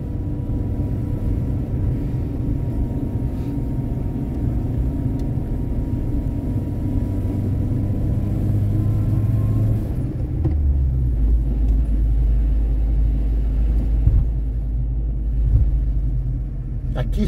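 Car driving along a rough road between Monteiro Lobato and São José dos Campos, a steady low rumble of engine and tyres that grows heavier and deeper partway through, with voices talking over it.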